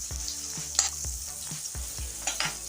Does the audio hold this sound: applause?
no